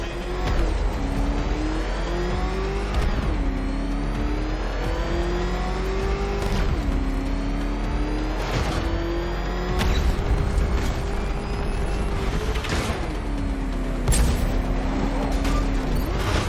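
Batmobile engine from Batman Arkham Knight, a loud continuous motor drone with repeated revving rises and gear shifts, close and sustained, with faint game sounds around it.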